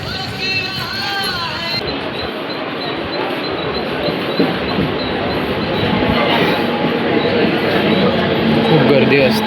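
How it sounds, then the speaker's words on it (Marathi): A train at a busy railway station rumbles with rolling noise, rising steadily in loudness as it draws near, with crowd chatter and voices mixed in throughout. "आता ट्रेन पकडायची आहे."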